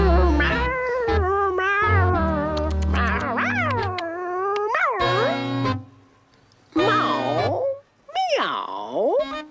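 Drawn-out, wavering meows come one after another, loud and close, with some sounding like a voice imitating a cat's caterwauling, broken by short pauses.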